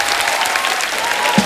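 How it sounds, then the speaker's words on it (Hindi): The studio audience of The Kapil Sharma Show bursts into loud, sustained applause for a film trailer, a thick, even wash of clapping from a large crowd. "जोरदार तालियां एक बार ट्रेलर के लिए"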